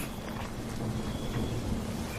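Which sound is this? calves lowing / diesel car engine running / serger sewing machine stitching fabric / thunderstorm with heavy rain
thunderstorm with heavy rain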